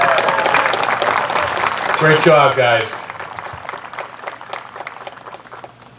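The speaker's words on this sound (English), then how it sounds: "Let's give them a round of applause," Applause at a Memorial Day ceremony runs under a man's nearby speech. The crowd's clapping is fairly loud at first and thins into scattered claps after he stops talking.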